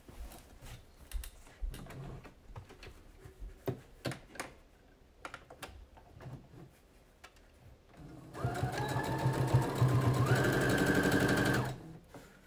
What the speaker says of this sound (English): And then you're going to top stitch 1/4 inch seam allowance all the way across.